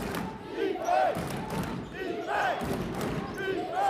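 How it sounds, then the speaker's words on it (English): Home fans in a gym at a girls' varsity basketball playoff game raise a loud, sustained crowd roar, with shouts and sneaker squeaks rising over the steady noise, while a commentator talks over it. "Looks like the home crowd getting into it."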